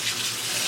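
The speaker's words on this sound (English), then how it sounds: "we're gonna open the water, the tap, and sort of run the water" Water runs steadily from a kitchen sink tap to rinse kale. The stream is close and constant with no pauses.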